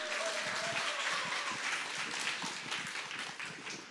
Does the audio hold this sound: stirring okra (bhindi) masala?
no